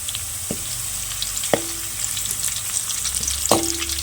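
Cashews and raisins fry steadily in a pan of hot fat for a Kerala chicken biriyani, giving a loud, dense sizzle broken by three sharp scraping stirs of a utensil.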